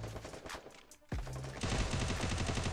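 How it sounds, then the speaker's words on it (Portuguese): Gunfire in a 4v4 competitive video game match, rapid bursts of automatic shots and heavy fire, loud and dense, sustained after a brief lull. "Deu só tiro."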